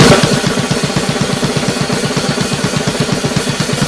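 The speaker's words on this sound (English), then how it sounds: "then you're able to go ahead and speed things up, and it's going to sound something like this." Drum kit playing a fast gravity blast beat: very fast, relentless drumming, rapid, evenly spaced kick and snare hits under a constant wash of cymbals, loud and dense throughout.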